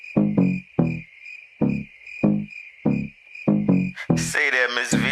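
Crickets chirp in a gag effect: a steady high trill pulsing in regular bursts, fairly loud and close, with a brief vocal sound at the very end.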